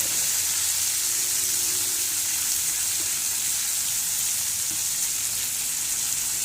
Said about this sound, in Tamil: நல்லா கிளறி கொடுத்து ஃப்ரையாக வைக்கணும்.